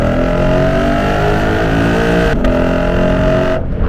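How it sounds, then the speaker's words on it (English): A Lexus RC F with a loud exhaust pulls hard in first gear. The engine howls with a steadily rising roar, then drops sharply at an upshift and climbs again before cutting off abruptly. "Actually, let's do a first gear pull."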